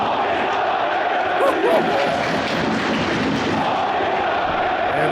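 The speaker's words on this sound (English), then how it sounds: "Mönchengladbach retaliated by cheering a fan chant that I would never forget for the rest of my life" A big crowd of Mönchengladbach football fans chants together at a German soccer match, a dense, steady roar of voices filling the stadium without letup.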